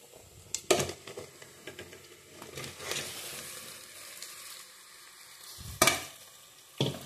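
Mutton hits a pan of fried onions, a faint sizzle broken by a few sharp clatters and scrapes, with no talking.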